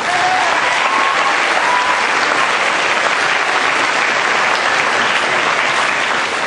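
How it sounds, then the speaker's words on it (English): A school district award ceremony audience applauds in a sustained, even round of many hands clapping, filling the whole span at a constant level with a faint crowd murmur beneath. "Let's give them a round of applause."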